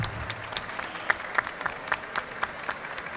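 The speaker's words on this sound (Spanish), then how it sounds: "les pido a todos un aplauso para los participantes del debate" Audience applause for debate participants at a panel on gender diversity in video games, a steady patter of many hands clapping with sharper individual claps, moderately loud and unbroken by voices.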